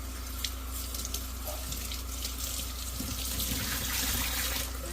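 Tap water runs steadily into a sink while a tie-dye shirt is rinsed, a constant close splashing hiss at moderate level with no voices.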